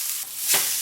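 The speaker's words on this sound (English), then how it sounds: "Next, we're going to add in the white onions." White onions tumble into a hot pan after browned turkey sausage, giving a short, close sizzle that swells midway through the moment and then settles into a steady frying hiss.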